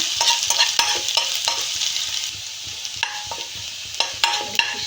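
Finely chopped onion frying in hot oil in a kadai gives off a steady close sizzle, broken by repeated scraping stirs of a spatula against the pan.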